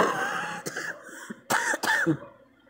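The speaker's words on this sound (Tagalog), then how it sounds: "Excuse me po, inuubo ang person." Several sharp coughs, a couple near the start and a louder cluster toward the middle, with a throat-clearing quality, close and otherwise quiet.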